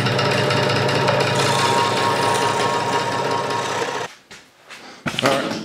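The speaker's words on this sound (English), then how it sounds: "So can you cut a lattice hinge on a scroll saw?" A scroll saw cuts a lattice living hinge with a rapid, buzzing reciprocating chatter that runs steadily, then stops and restarts in short bursts near the end.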